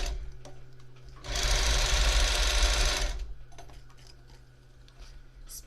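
A sewing machine runs in one steady buzzing stretch of about two seconds while stitching a wig frontal, close and fairly loud, with quiet ticks and handling before and after and no talk.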